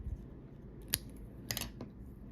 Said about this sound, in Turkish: Hemen kesiyorum.